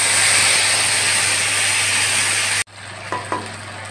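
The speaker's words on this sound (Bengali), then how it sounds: "এবারে মশলাটা তেলের ভিতর দিয়ে দিচ্ছি।" Cumin, chilli and ginger spice paste hitting hot oil that already holds bay leaves, cooked for a fish-head and banana-flower dish. A loud, steady sizzle and hiss runs for a few seconds, then drops abruptly to quieter frying with a couple of soft clinks.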